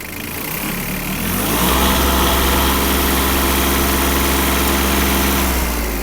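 Yanmar KE-50 mini tractor engine rising from a low idle into a steady high-rev roar held at maximum speed, loud and close with strong low rumble and no voices.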